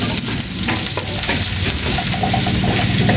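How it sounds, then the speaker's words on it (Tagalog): Food sautés in a hot pan for a Filipino chicken-style dish, with a continuous close sizzle and crackle and occasional stirring scrapes, and no talking. "Ay, magigisa na."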